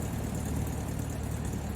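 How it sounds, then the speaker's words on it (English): A car engine idles steadily and close by with a dense low rumble and faint ticking running through it. No voices are heard. "I love that sound, that ticky sound that these engines make."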